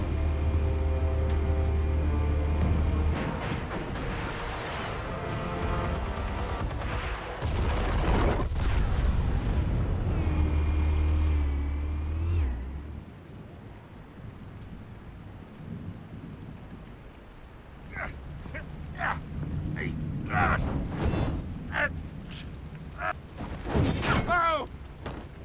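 Loud booming explosions from a Batman: The Telltale Series video game, with heavy rumbling blasts early on, a quieter stretch, then a run of sharp cracking bursts near the end.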